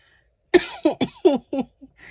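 A close, loud fit of coughing: about six sharp coughs in quick succession, then a faint breath.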